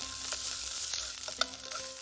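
Grated onions frying golden brown in a pan, a steady close sizzle with faint stirring clicks and scrapes throughout.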